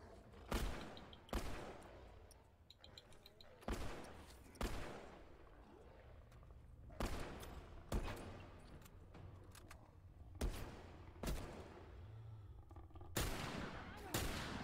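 Gunfire in The Last of Us during a winter level: sharp, loud single shots spaced irregularly, a few close together, with quieter ambient game sound and occasional talk between them.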